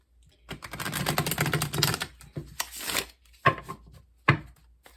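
A new tarot card deck is shuffled close by, a dense riffling clatter for about two seconds followed by several shorter bursts of cards being cut and tapped together, with no talking.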